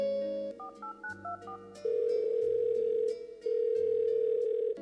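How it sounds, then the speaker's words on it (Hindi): A telephone handset gives a string of quick keypad dialing beeps, then a long steady tone that breaks briefly and resumes, clear and close while a call is placed. "मैं अभी अपने बेटे को फोन करती हूँ"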